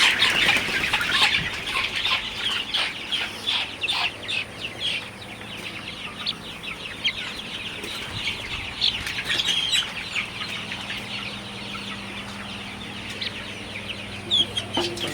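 Young Sonali super hybrid chickens about a month old, repeated close clucks and sharp squawks from several birds overlapping in an irregular stream, without talk.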